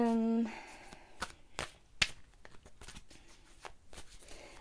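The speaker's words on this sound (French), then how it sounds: "Je vais essayer de recouvrir quelques cartes." Tarot cards being handled and laid over other cards, heard as soft close slaps, slides and papery flicks in an uneven rhythm, with a brief tone at the start and quiet background.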